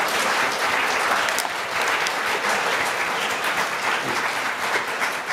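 Audience applause at a concert in a theological seminary hall, sustained clapping from a sizeable crowd that stays loud and even throughout, with no speech.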